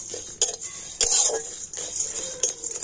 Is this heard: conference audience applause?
no